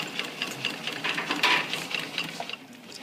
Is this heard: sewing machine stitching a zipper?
yes